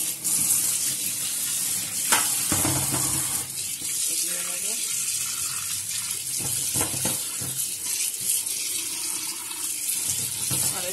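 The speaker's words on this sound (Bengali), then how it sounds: "আমি এটাকে আবার একটু জল দিয়ে ভালো করে ধুয়ে নিলাম।" Running tap water splashes steadily as a cloth is rinsed, with a constant hissing stream and occasional louder gushes and handling sounds.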